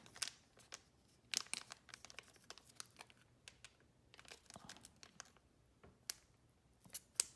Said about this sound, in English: There's a little tear strip here at the top. See if I can open this without actually doing any damage to these cards.